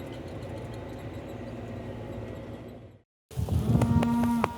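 A cow mooing on a dairy farm, a loud, close, drawn-out low call following a stretch of steady rumbling farm background and a brief gap.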